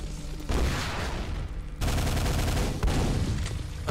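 Rapid gunfire from the video game Quake rattles in dense, loud bursts, continuous volleys broken by brief pauses, close and harsh with no talking over it.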